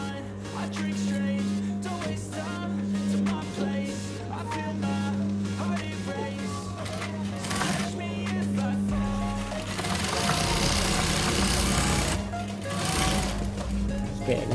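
Sewing machine running steadily while stitching a fabric shoe bag, a continuous mechanical whir with rapid needle chatter that surges louder near the end, with a voice speaking over it.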